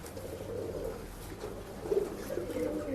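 Pigeons at a pet shop in Bangalore give soft, low, continuous cooing, fairly quiet and close, with a slightly louder burst of coos toward the end and no talking.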